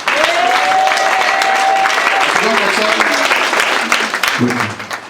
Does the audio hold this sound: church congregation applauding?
yes